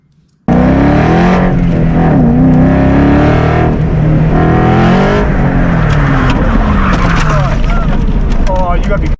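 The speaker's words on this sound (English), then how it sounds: "He gooses the throttle pretty good, and it just comes around on him." Factory 5 Cobra Daytona revving hard at an autocross event, a loud, close engine roar that surges and wavers as the throttle is goosed, continuous for several seconds after a quiet start.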